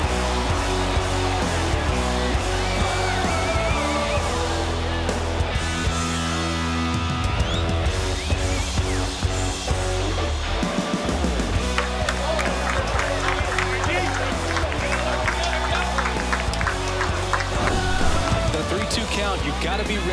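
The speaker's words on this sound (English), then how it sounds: "This crowd back alive." Stadium crowd noise in a video baseball game, Toronto Blue Jays against Oakland Athletics, a continuous roar under steady music-like tones and game sounds, with no clear peaks of cheering.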